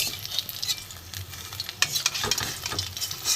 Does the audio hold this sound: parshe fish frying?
yes